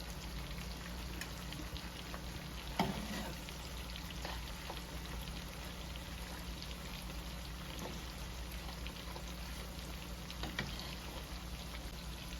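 A T-bone steak sizzles in garlic butter, a steady dense crackle and hiss running throughout with a few louder spits and pops.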